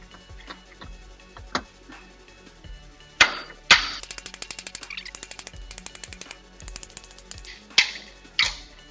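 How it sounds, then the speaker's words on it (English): A 3-pound sledgehammer taps on a Chevy Trailblazer's suspension during strut and ball-joint work. A few isolated metallic hits are followed by a fast run of light, rapid taps, then a couple more knocks near the end. "Just tapping it with a 3-pound sledgehammer here."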